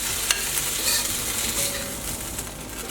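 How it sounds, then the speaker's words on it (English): Meat searing in a wok for Thai pad see ew, a steady close hiss of frying with faint crackles and a soft scrape or two as it is turned, no voices. "Be sure to spread it out and let it sear to get that browning."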